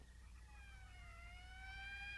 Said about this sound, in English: That's the fifth siren in the last hour.